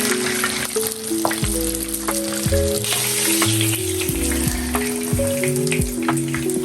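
Fish fries in hot oil in a pan, with a loud, continuous sizzle and crackle and scattered pops throughout, backed by some low tonal background sound and no voices.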